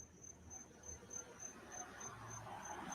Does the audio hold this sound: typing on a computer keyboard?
no